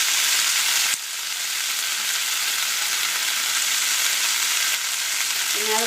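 Capsicum, onion and two green chillies sautéing in oil for a capsicum onion thuvaiyal give a steady, loud broadband sizzle that runs the whole time, with a brief dip near the start and no talking.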